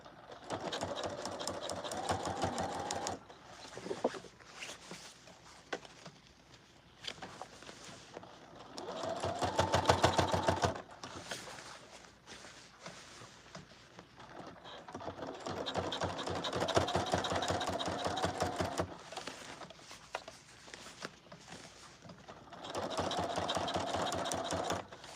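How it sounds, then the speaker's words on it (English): A sewing machine top stitching the edge of a puffer jacket arm handle in a boutique, running in steady stretches that speed up and ease off, with a continuous mechanical whir and brief pauses between runs. "top stitching the edge of my arm handle"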